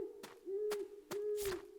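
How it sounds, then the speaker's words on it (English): Soft, steady hooting tones from an owl in the video game Deadly Premonition 2, repeated in even pulses with faint clicks between them, quiet and alone. "Stop making the owl noise, it's so creepy."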